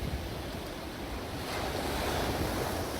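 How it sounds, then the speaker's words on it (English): Floodwater from the overflowing Guadalupe River at Kerrville, spilling past the Nimitz Dam into a street and park, rushes in a loud, continuous roar of churning water with wind buffeting the microphone and no voices. "The Nimitz Dam overflowing, the river swelling, water pouring into a street and a nearby park."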